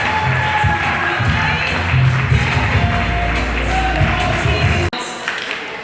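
An audience at an authors pavilion and business expo applauds in a steady, loud wash of clapping with some cheering mixed in, then drops abruptly to quieter room noise near the end.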